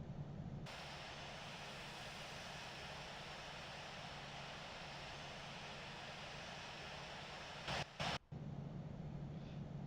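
Delta jet airliner beginning its takeoff roll, a faint steady broadband roar of engines heard from inside the cabin with a low hum, briefly interrupted by a couple of clicks near the end.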